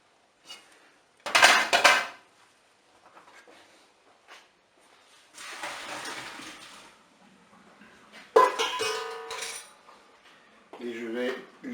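Boiled potatoes being drained in a kitchen, with loud bursts of pots and cutlery clattering and clanking between quieter gaps, then some running water and handling noises.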